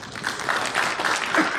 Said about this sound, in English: a big round of applause for all our esteemed panelists